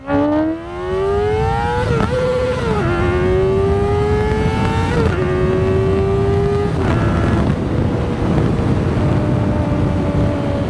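Kawasaki Ninja ZX-4RR sport motorcycle engine revving loudly and close, pitch climbing through several gears with brief dips at each shift, steady and continuous.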